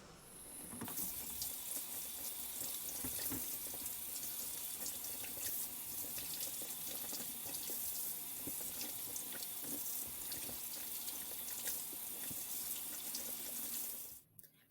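Water pours steadily from a faucet into a sink as peaches are washed, a constant, close, rushing hiss that cuts off abruptly just before the end.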